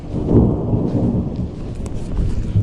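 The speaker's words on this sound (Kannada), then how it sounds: "ಒಳ್ಳೆ ಗುಡುಗು ಬರ್ತಾ ಇದೆ." Low thunder rumbles on a cloudy, rainless morning, a deep, steady roll swelling early and then fading, heard alone with no talking.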